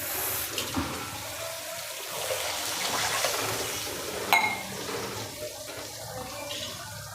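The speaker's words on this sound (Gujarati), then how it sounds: "અત્યારે હું દોઢથી બે ગ્લાસ પાણી નાખું છું" Water pours and splashes steadily into a cooking pot while making Surati rasawala khaman, a continuous gushing sound with a small clink partway through.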